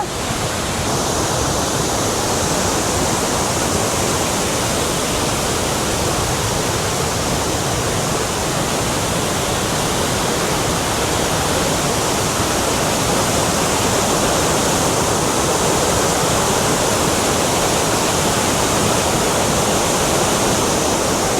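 The overflowing Thirparappu waterfall roars with rushing water, a loud, steady, dense wash of noise that never lets up, with no voices over it.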